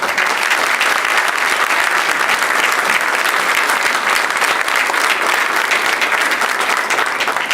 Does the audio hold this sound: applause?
yes